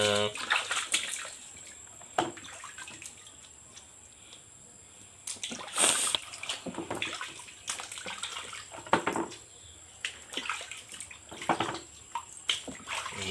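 Guavas from a fresh afternoon harvest being rinsed under running water, with splashing and trickling bursts that come and go across the clip, close by, while people talk now and then.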